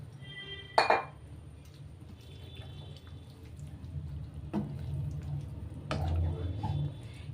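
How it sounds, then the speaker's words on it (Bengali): Chicken bharta is stirred with chicken stock in a pan, with a sharp clink of the utensil, occasional lighter taps and soft wet liquid sounds over a low background. "এবার যে চিকেন স্টকটা ছিল সেটা এর মধ্যে আমি দিয়ে একটু ভালো করে নাড়ব।"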